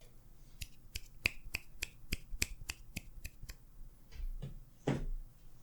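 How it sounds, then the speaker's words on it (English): A steady run of about a dozen crisp finger snaps sounds close and evenly spaced, followed by a few duller thumps and rustles. "Can I even get finger snap claps?"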